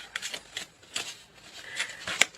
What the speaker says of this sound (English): One more card, and then we will cut the deck.